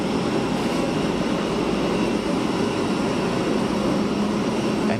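An MD-80 jet airliner passes at Geneva Airport, a steady broad engine roar held at an even level through the clip, with no talk over it.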